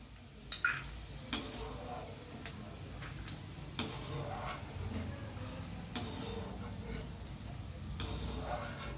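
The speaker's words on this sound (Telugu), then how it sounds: "పల్లీలు ద్వారగా వేపుకోవాలి చూడండి ద్వారగా వేగిని సైడ్కి తీసుకోవాలి" Peanuts fry in oil in a pan for Andhra-style okra fry, giving a steady close sizzle mixed with the scrape and clicks of stirring.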